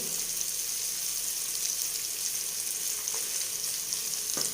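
Cumin seeds and asafoetida roasting in a pan: a dense, even sizzling hiss that holds steady throughout, close and fairly quiet, with a faint clink near the end and no speech.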